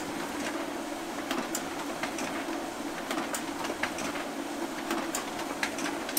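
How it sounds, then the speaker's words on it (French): An order printer runs continuously in a shop, a steady mechanical whir with repeated light clicks and ticks as sheets of the day's orders feed through. "on imprime toutes les commandes qui sont passées aujourd'hui"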